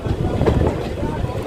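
A local train on the Azimganj to Krishnanagar line rumbles heavily as it pulls into Bethuadahari station, a dense, close low roar with a faint voice partly under it.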